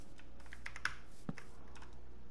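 A computer keyboard clicks faintly while someone plays Minecraft, scattered soft key taps and a couple of sharper presses over a steady low hum, with no talking.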